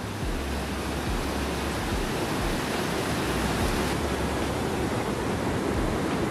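Rushing water of a big mountain creek in the Sierra during heavy snowmelt, a loud, continuous broadband roar filling the whole clip with no voices.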